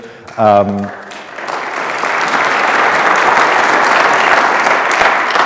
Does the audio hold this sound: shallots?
no